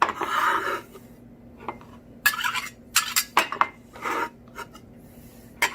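A kitchen knife chopping garlic on a board, a handful of short irregular clacks and scrapes close by with quiet gaps between them, no voices.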